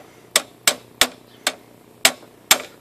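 Six sharp metallic hammer blows strike pliers held against the fork tube of a Tomos moped during a fork wobble fix. They land close and loud in an uneven rhythm, each a crisp crack with a short ring.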